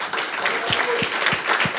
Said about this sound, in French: Bravo à tous les 3, on les applaudit vraiment